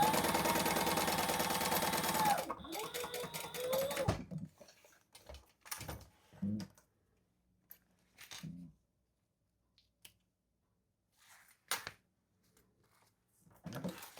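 A sewing machine top stitching a lining flat for a custom white croc bag runs in a loud continuous burst for about two seconds. After that come scattered short handling clicks and quieter mechanical bumps with gaps of near silence.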